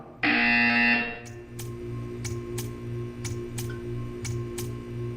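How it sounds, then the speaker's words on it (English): A loud, harsh buzzer blares for about a second in Portal 2, then gives way to regular ticking clicks over a low hum. "You will hear a buzzer."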